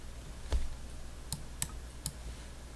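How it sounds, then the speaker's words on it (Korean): Computer mouse clicks while opening the MobaXterm program on a Windows PC: a few sharp, isolated clicks spaced apart over a quiet background with no talking. "모바 엑스텀 클릭 하면은"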